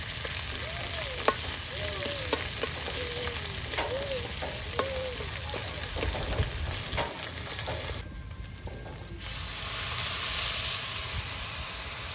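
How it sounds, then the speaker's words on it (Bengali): Cinnamon, cardamom and cloves sizzling in hot oil in a village-style kitchen, a steady close hiss with faint clinks of stirring and a brief quieter dip before the frying swells again. "আর এখন এটাকে এখন তেলে ভেজে নেওয়া হচ্ছে।"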